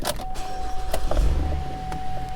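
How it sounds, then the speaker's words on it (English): The power moonroof of a 2017 Chevrolet Traverse opens with a steady electric motor whine lasting a couple of seconds, close and moderately loud, with a soft clunk partway through and no talking. "Power moonroof."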